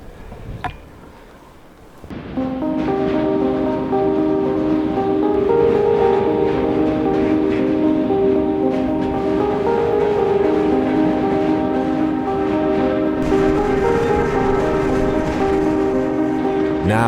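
A freight train rolls past close by, its steady rumble and long sustained tonal whine from the wagons holding loud for most of the stretch after a quieter start, with a few sharp clatters near the beginning.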